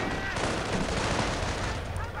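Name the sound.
rifle fire in video game Company of Heroes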